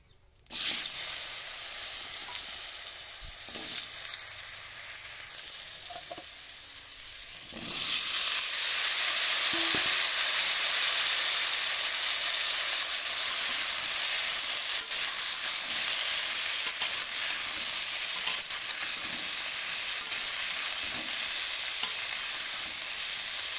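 Cumin and potatoes fry in a pan, starting with a soft crackle that jumps to a loud, bright, continuous sizzle when the potatoes go in, with occasional stirring scrapes and no talking.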